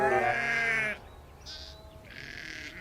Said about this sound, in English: There were sheep on the tracks.